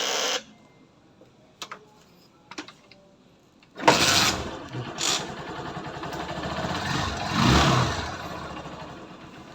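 A cold Kawasaki Barako II motorcycle sits quiet through a few faint clicks, then its engine fires up abruptly and settles into a steady, close idle with a slight swell in loudness.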